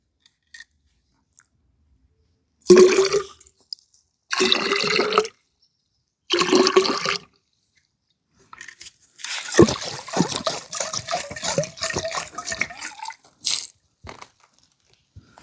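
Bursts of water sloshing and gurgling inside hollow bamboo tubes, a few separate splashes followed by a longer stretch of rattling, trickling washing.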